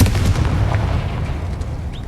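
A Confringo fire spell explodes in Hogwarts Legacy, giving a dense, booming blast with a sustained rumbling roar that stays loud throughout and then thins slightly toward the end.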